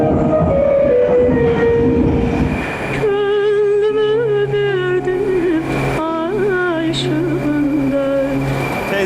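A metro train arrives at Həzi Aslanov station in Baku, a loud, continuous rumble that gives way to sustained whining motor and braking tones as it pulls in, with no voices.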